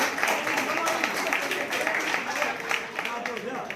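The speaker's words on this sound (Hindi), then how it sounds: "जोरदार तालियां, एक बार" An audience at a Hindi-speaking retirement program claps in a dense, lively burst, with voices and crowd chatter mixed through the applause.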